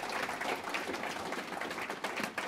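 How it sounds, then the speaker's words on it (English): A conference audience applauds the meeting's organizers in a continuous, dense patter of clapping heard from some distance, even and unbroken from start to finish. "you can applaud them, absolutely"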